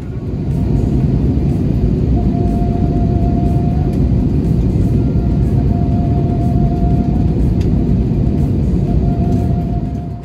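Loud, steady low rumble of an airplane cabin during landing that holds constant throughout, with a faint recurring tone above it and no talking.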